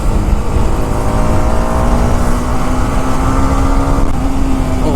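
A BMW G310RR motorcycle engine runs loud and close, holding a steady droning idle with a faint rise in pitch, with no talk over it.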